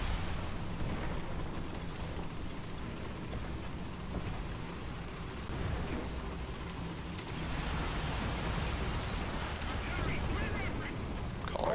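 Artillery fire and explosions in the War Thunder vehicle battle game: a dense, rumbling, continuous wash of distant blasts and booms at moderate level, with a voice talking over it.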